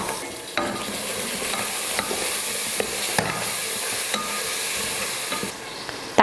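Small tomatoes sautéing in a pan with mint and coriander leaves, a steady close sizzle with repeated scraping stirs of the spatula throughout.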